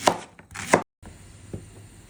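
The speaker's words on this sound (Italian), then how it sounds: "Iniziamo a tagliare la cipolla per preparare il soffritto" Knife chopping onion on a board for a Sicilian soffritto: several quick, close cuts in two bursts, a brief gap, then a few lighter taps over low kitchen background.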